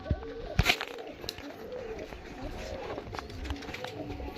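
Pigeons at a pigeon sale in Dankuni give soft, repeated low coos at close range, with occasional rustles and wing flutters in a quiet background.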